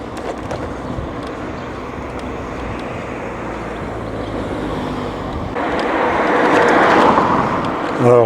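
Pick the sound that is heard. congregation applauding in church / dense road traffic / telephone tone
dense road traffic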